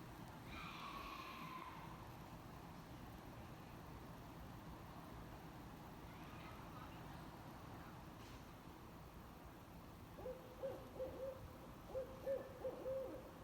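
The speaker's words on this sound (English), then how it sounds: "Barred owls can be nocturnal, as in this case, but they can also be pretty active in the day." A barred owl hoots at night on a forest floor, a short series of low calls near the start followed by a rhythmic run of hoots toward the end, fairly close over quiet background hiss.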